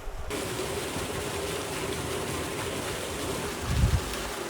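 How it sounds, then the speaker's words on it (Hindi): Water pouring from a stone Gomukh cow-mouth spout at a hillside temple beside a meteorite crater lake, a steady broadband rushing and splashing that holds constant throughout, with a brief low thump near the end. "यहाँ पर ये नीचे गोमुख है और ये जो पानी है वो पहाड़ों में से आता है"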